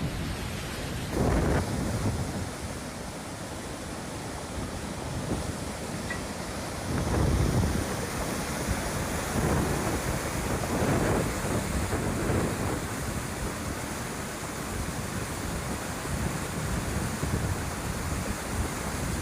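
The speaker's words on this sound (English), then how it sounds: "ها اسميها حدرة الشعاب حدرة" Floodwater surges down a valley in Ras Al Khaimah, UAE, during a historic storm, a constant heavy roar broken by louder rumbling gusts, with no voices heard.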